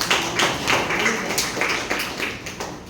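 A church congregation claps in a steady, rhythmic beat during a worship service, repeated clap bursts at regular intervals, moderately loud and without talk.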